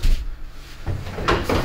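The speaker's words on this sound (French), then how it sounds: "et on a juste à côté donc une porte coulissante" A sliding door beside a small kitchen area in a flat opens or closes with a low thud, then two scraping, rumbling pushes about half a second apart, close by and with no talking.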